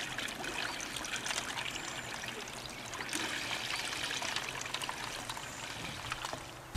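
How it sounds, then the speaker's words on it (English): Water runs down a trough and pours into a cup at Lake Winnipesaukee, a steady close trickling and splashing that continues evenly throughout without talk. "the water comes down and pours directly into the cup"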